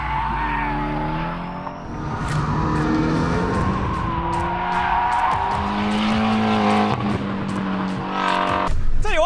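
A race car drifts under hard throttle, its engine revving loud and steady while the tires squeal and skid continuously through the slide; a voice is briefly audible over the noise.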